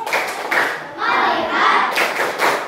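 A class of children performs the tepuk fokus clapping routine, with bursts of rhythmic group hand claps alongside chanted voices in a classroom.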